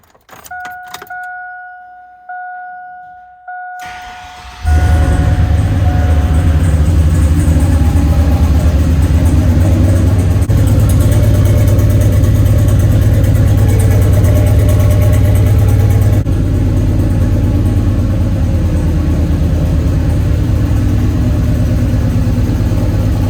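Turbocharged 6.0 Chevrolet Silverado engine starting up and idling with a steady, loud, close rumble, preceded by a few seconds of ignition chimes and clicks.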